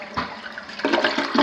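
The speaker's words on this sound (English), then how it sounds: "Did you flush okay?" A home toilet flushes close by in a Texas house, giving a short rushing swirl of water that builds toward the end, with no voices.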